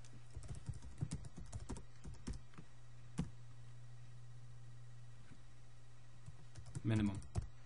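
Typing on a computer keyboard while entering a spreadsheet formula: quick irregular runs of key clicks, close and moderately soft, with a short pause mid-clip and a muffled thump near the end.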